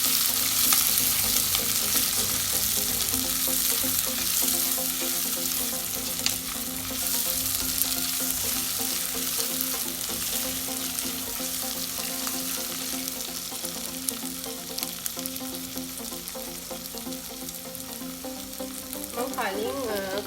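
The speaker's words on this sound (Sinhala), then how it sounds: "අවුමිරිස් වේලිච්ච මිරිස් ටිකයි දාලා ඒ ටික තෙල් බැදගන්න තියෙනවා." Dried chillies frying in oil for a Sri Lankan jackfruit curry, with a loud, continuous, crackling sizzle that holds steady throughout, marked by occasional stirring scrapes.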